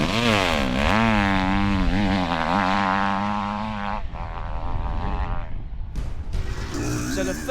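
A dirt bike rides fast on a motocross track. Its engine revs loud and near, the pitch rising and dipping through gear changes, then gives way to rough wind rush and engine drone.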